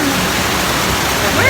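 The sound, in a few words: heavy rain falling at the zoo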